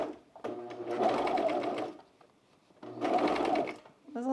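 A sewing machine stitching men's jeans, worked with the left foot, whirs in two close bursts of rapid stitching separated by a short pause, fairly quiet and alone.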